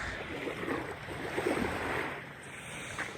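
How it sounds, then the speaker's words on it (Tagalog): Sea waves washing onto a beach, a steady broad wash of surf with gentle swells rising and falling close by, wind noise over it and no voices. "bawat alon ng dagat"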